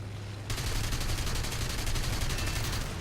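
Rapid, continuous machine gun fire from aircraft guns in the air combat game War Thunder, a dense rattling burst that starts after a brief moment and runs loud to the end.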